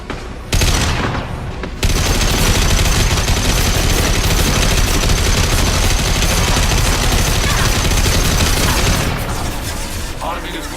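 Sustained loud bursts of automatic gunfire and booms from a firefight in the Mass Effect 2 video game, nearly continuous for about seven seconds before easing, with voices speaking amid the shooting.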